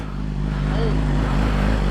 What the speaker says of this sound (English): I think your exhaust, it sounds good. It's real deep down low.